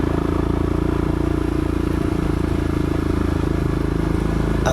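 Royal Enfield 443cc single-cylinder motorcycle engine chugging steadily at low revs, a close, continuous, even throb with no voices.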